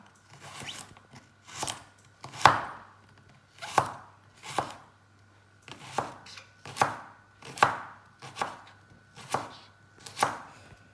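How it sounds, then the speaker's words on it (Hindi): A knife slices carrots lengthwise on a cutting board, roughly a dozen crisp, separate cuts in a slow, uneven rhythm close by, with no talking. "इस तरह से मैं कैरेट्स को लंबा लंबा काटूँगी"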